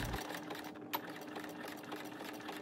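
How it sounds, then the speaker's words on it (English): Sewing machine running a low-width zigzag stitch over elastic in a fabric scrunchie and back tacking: a steady, quiet mechanical whir with fine rapid needle ticking, close and faint, with one small click midway. "Back tack a couple of times."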